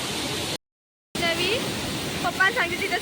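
Savda waterfall carrying a heavy flow of water gives a constant broadband roar, broken by a brief total cutout, with faint voices mixed into the rushing noise.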